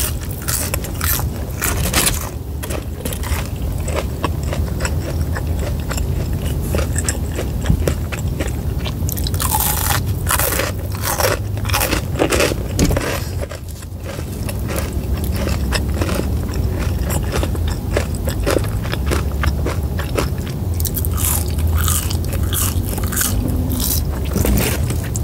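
Loud, close crunching as Burger King onion rings are bitten and chewed, with crisp cracks and wet chewing in a continuous run and no talking.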